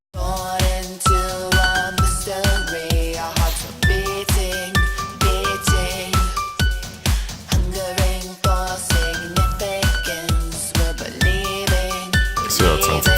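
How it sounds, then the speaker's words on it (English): A synthpop/EBM piano part runs through a big, gritty delay effect, giving a steady, chiming stream of repeated notes with echoing tails. It stays loud and rhythmic throughout, with no voices. "let's send the piano to big delay"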